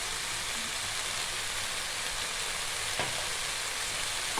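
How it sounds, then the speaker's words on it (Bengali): A spice mix of turmeric and red chili powder sizzles and fries steadily in a pan for potol dolma, a continuous close hiss with one brief stirring tap and no talk. "মশলাটাকে ভালো করে আমি কষাবো"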